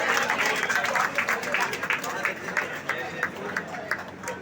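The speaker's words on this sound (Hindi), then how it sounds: "जोरदार तालियां बजा।" Applause rises from a crowd at a gathering about the PM Vishwakarma scheme, loud rhythmic clapping that pulses irregularly and gradually loosens, with a speaking voice and murmuring mixed in.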